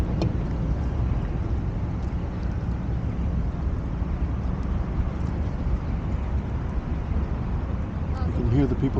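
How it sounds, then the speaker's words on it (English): Traffic in a Japanese park: a continuous wash of cars passing at a distance, a steady low roar with wind buffeting the microphone. "Of course, I can hear many cars."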